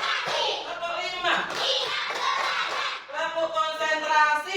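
Children in a classroom clapping along in a counting clap game, a few quick rhythmic hand claps heard close under a teacher's voice and children's chanting voices.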